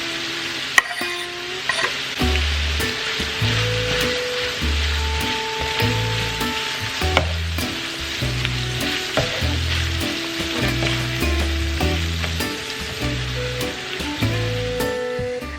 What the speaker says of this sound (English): I've got my breakfast sausage frying up here